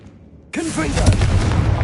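Confringo spell blast in the game Hogwarts Legacy: an abrupt loud fiery burst erupts after a brief quiet, with a whooshing sweep and sustained roaring crackle that holds to the end.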